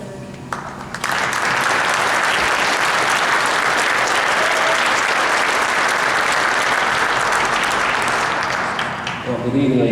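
An audience at a naval science cadet pass-in-review ceremony breaks into loud, sustained applause after a commander is introduced, and the dense clapping fills the room for about eight seconds before easing off as a voice returns.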